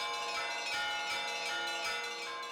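Three-hundred-year-old monastery bells ring in Rostov-Veliki, Russia, layered bright peals struck in quick succession with shimmering overtones, moderately loud and free of talk.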